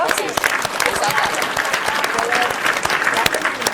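High school audience applauding the student council at a school event, loud dense clapping with sharp individual claps and some crowd voices mixed in, continuous throughout.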